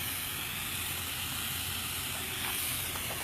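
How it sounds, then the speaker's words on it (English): Continuous crackling hiss of Philly cheesesteak filling sizzling on a hot griddle, steady and fairly quiet with no talking. "Can you guys hear that sizzling?"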